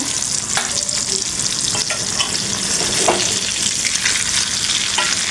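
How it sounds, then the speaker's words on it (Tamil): Sankara (red snapper) fish frying in oil in a pan, a steady dense sizzle with crackling spits and a few brief clinks of a utensil, continuous and close throughout. "இந்த பக்கம் நம்மளுடைய மீன் வறுத்துட்ருக்கோம் இல்லையா?"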